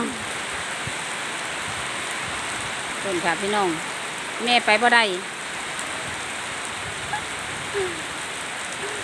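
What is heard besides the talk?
rain falling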